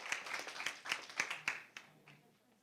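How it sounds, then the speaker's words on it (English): A debate audience applauds, with scattered individual claps that start strong and thin out over a couple of seconds, fairly quiet and at a distance in a hall. "give him a round of applause"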